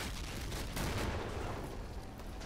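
Dense gunfire from a Men of War: The Pacific battle as US Marines assault Shuri Castle, a rapid crackling fusillade of overlapping shots and bursts, continuous and fairly loud throughout.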